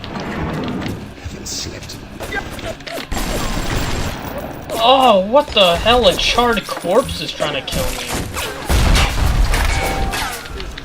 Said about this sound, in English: Why are there explosions going off everywhere?